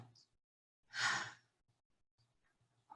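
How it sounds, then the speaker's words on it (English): A single slow exhale during diaphragmatic breathing practice, soft and close, surrounded by near silence, with a faint breath beginning at the very end. "we can do some diaphragmatic breathing"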